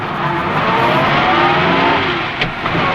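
A car pulls away close by, its engine revving steadily in a rising, continuous whoosh for a few seconds with no voices.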